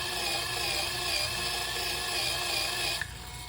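Electric sander-polisher smoothing a cured resin test piece, a steady loud whirring buzz running continuously for about three seconds before the pitch drops as it eases off near the end.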